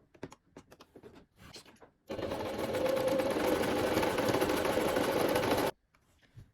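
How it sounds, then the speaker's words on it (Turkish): An overlock sewing machine stitches the seams of a tunic, running loud and steady for about three and a half seconds, with light handling clicks and taps before and after. "overlock dikiş geçeceğim"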